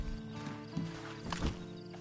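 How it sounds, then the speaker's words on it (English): In the video game Red Dead Redemption Online, a horse's hooves clop a few times close by, mixed with a short whinny, while a voice murmurs faintly in the background. "Then you better get on this horse."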